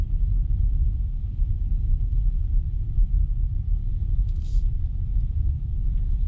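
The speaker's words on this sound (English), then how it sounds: "Driving down this really crazy hill right now." A car creeps down a very steep hill in Aptos, California, heard from inside as a steady, low engine and road rumble that holds even throughout.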